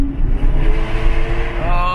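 Stock exhaust of a Lamborghini Aventador S Roadster supercar, a loud, steady engine roar with a rising rev tone near the end; distinct exhaust crackles aren't clearly separable.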